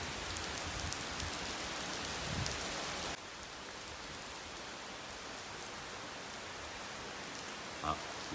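Rain falls on a hot summer day, a soft, faint, steady hiss of drops on surfaces, slightly louder at first, with an occasional brief knock.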